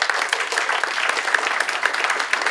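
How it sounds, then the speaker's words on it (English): An audience at a student event claps in dense, continuous applause that stays lively and close for a couple of seconds. "A round of applause for him,"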